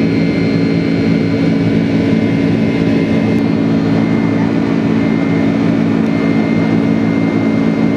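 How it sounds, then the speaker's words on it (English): A steady, loud roar of a Boeing 767-400ER's jet engines in flight, a constant broadband drone with a low rumble and no talking. "Listen to the sound of those engines."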